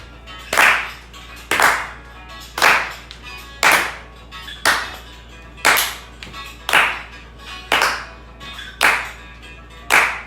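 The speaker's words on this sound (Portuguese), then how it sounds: "Se você puder bater palmas aí onde você está, em nome de Jesus, vamos adorar e entregar o melhor a Ele." A congregation claps together in worship during a live youth church service, ten loud, evenly spaced group claps in a steady rhythm with no talking.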